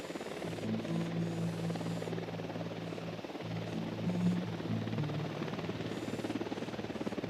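An enemy patrol helicopter in the video game Ghost Recon Wildlands drones steadily throughout, its rotor hum continuous and fairly loud with a faint rise and fall in pitch and no talking over it.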